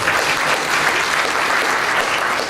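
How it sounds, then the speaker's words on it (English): An audience at a financing panel event breaks into a short, steady round of applause, dense and evenly loud from start to finish with no talk over it. "Give her a round of applause as well"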